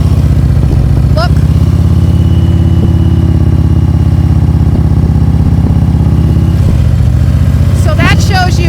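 A motorcycle engine runs steadily and loudly in first gear while the rider brakes to a stop and makes a turn among practice cones in a parking lot. The drone holds close and continuous throughout.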